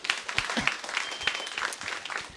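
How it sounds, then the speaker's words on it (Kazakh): At a stand-up improvisation show, a small audience gives scattered, light applause. Claps come unevenly at a moderate distance, with a faint murmur under them. "Сағынышқа бір шапалақ соғып қойсаңыздар."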